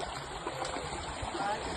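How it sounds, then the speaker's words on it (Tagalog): A cold mountain stream flows steadily at a campsite, a continuous close wash of rushing, splashing water with no pauses, filling the scene on its own. "Dito muna kami sa Batis, ha?"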